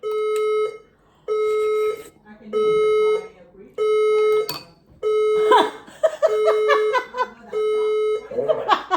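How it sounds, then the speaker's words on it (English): Building fire alarm system sounding repeated loud electronic beeps in a regular on-off pattern, each tone lasting under a second, with people talking and laughing over the later beeps indoors. "Warning. The fire alarm system is operated."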